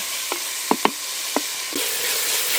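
Paneer frying with salt for a village-style chicken biryani crackles with a steady broadband hiss, broken by a few sharp pops and spoon scrapes, then swells into a louder sizzle near the end; nobody speaks.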